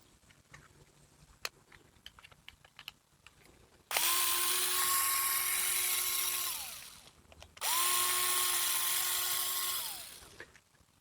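A power screwdriver whirs in two sustained bursts of about three seconds each, backing screws out of a wireless solar backup camera housing, close and loud, with a steady motor whine that winds down after each, preceded by faint handling clicks.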